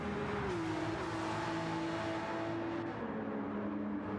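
Porsche race cars in a sim racing game, engines droning steadily at high revs with tonal whines sliding in pitch as the cars run close together, loud and continuous.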